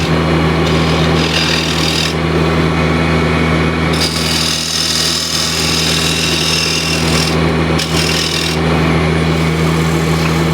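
A wood scraper shaping a dome on a spinning woodturning lathe workpiece, giving a steady, loud, continuous scraping rasp over the motor hum, with brief lulls and shifts in intensity as the tool moves.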